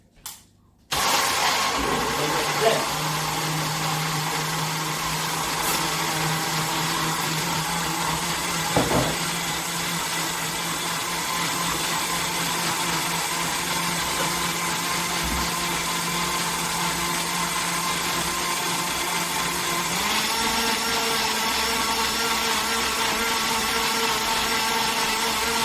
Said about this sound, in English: Allow it to blend as fine as possible.